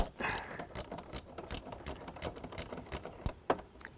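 A hand ratchet clicks in quick, uneven bursts while backing a 10 mm nut off a car's fuse block, close and crisp, the pawl chattering with brief pauses between strokes.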